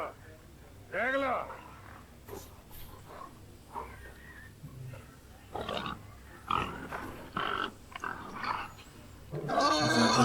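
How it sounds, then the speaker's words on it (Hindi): A pig grunts and snorts in a movie scene set at a pig farm, short bursts scattered across the stretch, mixed with people talking and background film sound. "पिग फार्म है इसका।"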